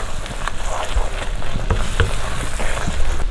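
Garam masala and fresh curry leaves sizzle steadily in hot oil in a pan for an egg roast, a dense close crackle with a few sharp pops and faint stirring scrapes.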